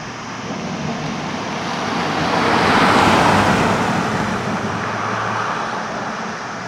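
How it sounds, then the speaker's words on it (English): A stock 2022 Volkswagen Jetta with a six-speed manual transmission drives along a back road, with a steady road and engine roar that swells to a peak midway and then eases off. "This is a completely stock car that I genuinely enjoy the sound of."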